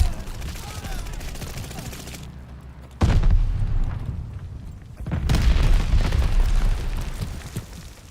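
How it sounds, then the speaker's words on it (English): Bombing run in Call of Duty Vanguard multiplayer, heavy booming explosions that hit in two loud waves with rumbling aftermath, under game voice callouts. "Teammate called a bombing run."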